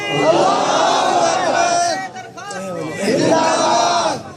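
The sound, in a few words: crowd shouting Allahu Akbar in reply to takbir call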